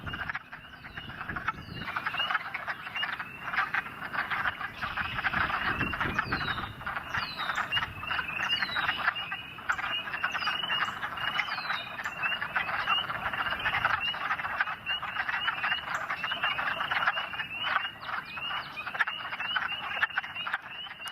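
Wood frogs call in a swamp, a dense continuous chorus of overlapping croaks and clucks at moderate distance, steady throughout with no voices.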